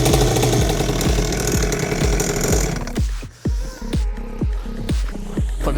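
A cheap 49cc kids' mini dirt bike engine revs loudly and rapidly, then drops back to a steady, popping idle with regular firing pulses, close by and with no voices.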